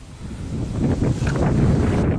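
Outdoor wind buffeting a microphone at a geocaching site in a ravine, a steady low rumbling roar that swells slightly and stays loud throughout.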